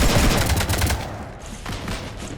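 Dense, rapid gunfire rattles through a firefight in Mass Effect 3 Legendary Edition aboard a ship, loud bursts of overlapping shots with a brief dip before the volley resumes.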